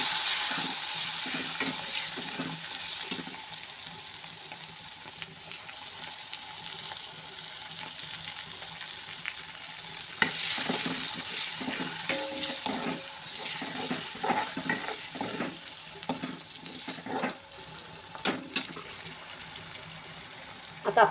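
Tomatoes fry in a pan with a continuous sizzle while a spoon stirs and scrapes in irregular bursts, occasional sharper clinks standing out near the end.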